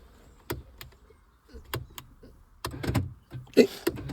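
Electric door mechanism on a wrecked MINI whirs and clunks in short separate bursts, with sharp clicks and latch knocks, then a louder rattling stretch near the end, close and fairly quiet.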